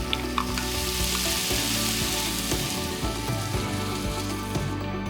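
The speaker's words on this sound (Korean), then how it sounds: "생크림에 간장을 섞어 고기를 구운 팬에 바로 부어주면" Cream mixed with soy sauce poured into a hot pan used to fry beef, giving a loud, steady close sizzle and bubbling with a few stirring clinks throughout.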